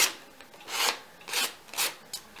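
A Leatherman Skeletool saw blade rasps across paper in four short, dry scraping strokes, each rising and fading, close and alone with no talking.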